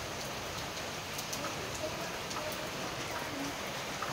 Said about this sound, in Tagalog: grabe talaga ulan dito